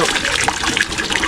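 A hand pump draws water, producing a brief, close, rushing splash and gurgle of flowing water.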